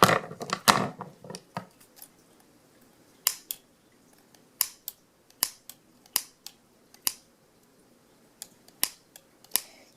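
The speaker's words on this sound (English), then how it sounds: "you're going to want to cut off the excess here" Scissors snip repeatedly through excess yo-yo string, giving sharp close-up clicks at an irregular pace, with a quick flurry at the start and then spaced single snips.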